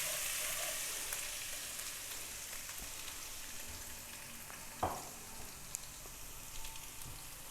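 Ginger garlic paste sizzles softly in hot oil for a fish handi, a steady quiet frying hiss with a brief stir or clink partway through.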